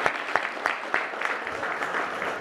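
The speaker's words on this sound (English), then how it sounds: "let's have a round of applause for them" An audience at a multicultural business forum applauds at moderate volume, a steady wash of many hands clapping with a few sharper individual claps standing out in the first second.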